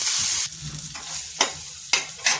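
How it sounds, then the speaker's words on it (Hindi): Chopped onion hits hot oil with cumin seeds for a lauki dal and sizzles loudly; a steady frying hiss carries through, broken by a few sharp spoon scrapes against the pan. No voices. "तो जीरा के साथ ही इसमें प्याज डाल देते हैं।"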